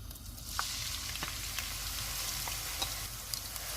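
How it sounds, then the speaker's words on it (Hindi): Onions fry in hot oil for a chicken masala, giving a continuous sizzle with scattered sharp crackles and pops throughout. "ऑयल गर्म हो गया, इसमें प्याज डाल देंगे"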